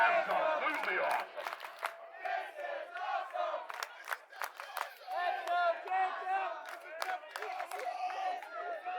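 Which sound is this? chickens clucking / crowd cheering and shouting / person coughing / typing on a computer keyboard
crowd cheering and shouting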